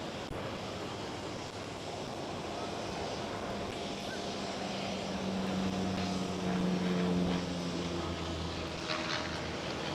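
A Coast Guard Dash 8 turboprop at Amsterdam Schiphol makes a fairly distant engine drone that swells mid-clip, with a steady propeller hum above a broad wash of background noise.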